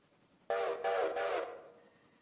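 A train whistle in a railroad video game sounds in three quick, close blasts that trail off over about a second, clear against a quiet background.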